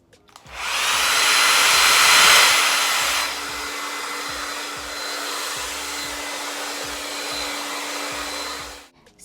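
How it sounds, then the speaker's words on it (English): A hair dryer with a curl diffuser attachment roars steadily, louder at first and then settling into an even, slightly softer whoosh with a low hum, running alone until it shuts off. "it's just an attachment that you add on to your blow dryer"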